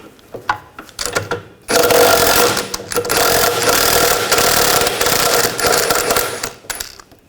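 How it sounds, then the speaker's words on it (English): An 18mm socket on a ratchet or impact tool spins off the sway bar link nut on the rear suspension of a 2000-2006 BMW X5: a few sharp clicks, then a loud, steady mechanical rattle for several seconds, close up, no talk. "I'm going to take the sway bar link nut off, use a 18mm socket"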